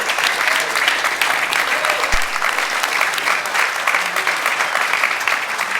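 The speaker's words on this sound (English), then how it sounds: "So how about a round of applause for our panelists up here?" Loud, sustained applause from a conference audience for cybersecurity panelists in San Diego, dense and even clapping that fills the room throughout with no talking.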